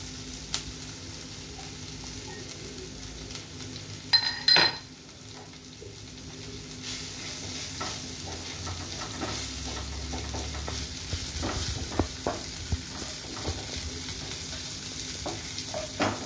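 Ginger fries and is stirred in a pan, a steady soft sizzle running throughout with occasional utensil scrapes and a sharp clink against the pan near the start.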